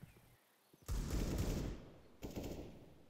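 SMG and pistol gunfire in Counter-Strike during a competitive match, two loud bursts of rapid shots, the first sustained for over a second and the second shorter, with no talk.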